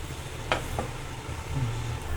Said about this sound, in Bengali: এখন আমি নেড়ে চেড়ে দিয়ে এটাকে আবার 5 মিনিটের জন্য আবার কষাতে দিব